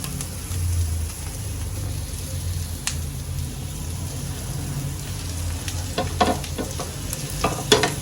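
Mandeli fish pieces fry in oil on a tawa over low heat, making a steady, close sizzle, with a few sharper crackles and spatula scrapes near the end and no talk.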